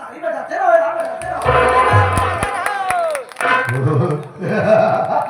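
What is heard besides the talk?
audience clapping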